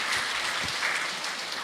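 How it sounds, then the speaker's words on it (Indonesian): A church congregation at a Toraja Sunday worship service applauds in a steady, dense wash of clapping that holds evenly throughout without pauses or voices. "Oke, boleh tepuk tangan ya."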